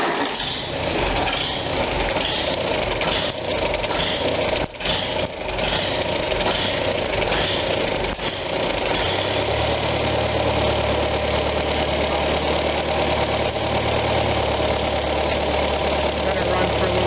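A 1945 Farmall BN tractor engine starts and settles into a steady, slightly rough idle, a continuous low chugging that stays loud throughout, with someone speaking over it early on.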